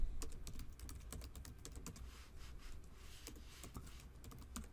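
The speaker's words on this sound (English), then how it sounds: "you would just type in Nslookup and then the domain name" Rapid, uneven keystrokes on a computer keyboard as a DNS lookup command is entered, close and fairly quiet, with short pauses between bursts and no talking.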